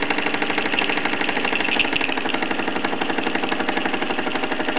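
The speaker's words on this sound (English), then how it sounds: "as you can hear and probably sense that the engine is gradually slowing down as the steam pressure drops" Mamod SE2 model steam engine on a raised base running with the regulator wide open, a steady rapid mechanical chuffing and clatter that gradually slows as steam pressure drops, close and continuous with no talk.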